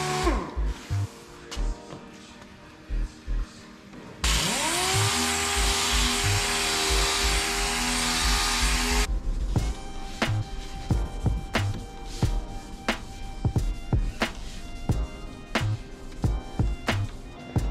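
A dual action sander runs over metalflake paint in a steady, loud whirring burst lasting several seconds, bracketed by sharp knocks and clattering handling noises.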